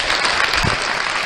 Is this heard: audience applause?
yes